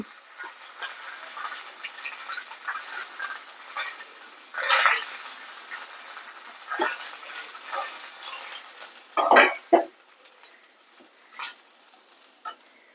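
Freshly grated coconut is lightly roasted in a pan with quiet, intermittent scrapes and stirs, a few louder strokes standing out against a faint background.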